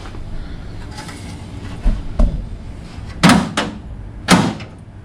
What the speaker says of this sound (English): door latch over here, or door lock mechanism, seems to be working pretty good